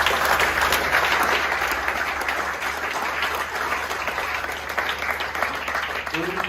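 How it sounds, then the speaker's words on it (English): A literary-dinner audience in a bookshop claps for guest William Yang, a steady, full round of applause that stays loud throughout without a break, with a low hum underneath. "Big round of applause."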